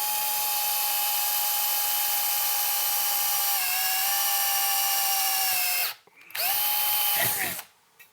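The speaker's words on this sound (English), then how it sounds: "we're going to start off with a 1/8 inch drill bit. This is considered a pilot hole." A power drill whines steadily at high speed, its pitch dipping as a 1/8-inch bit drills a pilot hole into a metal amplifier chassis, then stopping briefly and restarting before cutting off.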